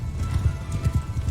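Cavalry horses gallop in the medieval battle game Mount & Blade II: Bannerlord, a dense rhythmic drumming of hooves, close and continuous.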